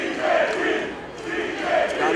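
A sold-out crowd at a professional wrestling show chants a wrestler's name, a loud roaring group chant that rises and falls in two swells across the moment.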